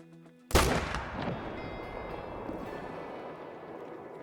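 A single loud hunting-rifle shot at a buck in theHunter, a sharp blast followed by a long rolling echo that fades slowly into quiet outdoor ambience.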